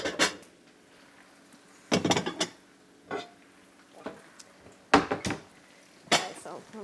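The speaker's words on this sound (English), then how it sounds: "So let me get out some bowls." Ceramic bowls clink and clatter in a kitchen as they come out of a cupboard, with several separate knocks and rattles spread out and close by, and quiet gaps between them.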